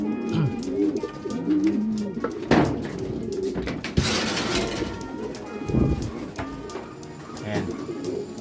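Racing pigeons coo steadily at a loft as birds return during a fun race, with low, repeated throaty calls in the foreground and occasional knocks and thuds nearby.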